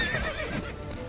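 Hooves clip-clop steadily while a horse whinnies in The Witcher 3, with a continuous game ambience behind, all at moderate level with no talking.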